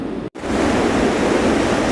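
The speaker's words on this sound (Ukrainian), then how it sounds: "Ці шалені хвилі додають драйву." Ocean surf rolls in as a loud, broad continuous wash of crashing waves with wind noise, interrupted only by a brief dropout near the start.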